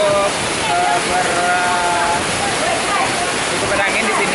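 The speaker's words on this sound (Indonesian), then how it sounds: "Saat ini kita sedang berada di air terjun Guru Gemurai." The Guruh Gemurai waterfall, a tall, clear waterfall in a breezy spot, roars as a steady, loud, broadband rush of falling water, with a voice speaking faintly over the constant noise.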